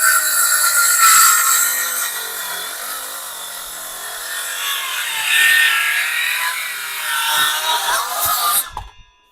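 A cordless Vitals Master ARg 18165 circular saw cuts through wood with a loud, sustained high whine that rises and dips under load for about nine seconds, then cuts off abruptly.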